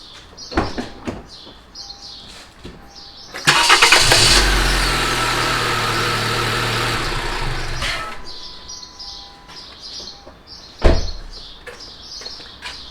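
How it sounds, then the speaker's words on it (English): A car engine cranks and catches after a jump start from a Solvtin S6 portable battery jump starter, then idles steadily for several seconds before shutting off. Birds chirp faintly outdoors before and after. "Let me try to jump start the car."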